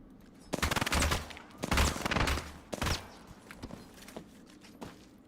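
Apex Legends gunfire comes in several rapid automatic bursts, each under a second long with short pauses between, loud and close, then fades to scattered lighter shots.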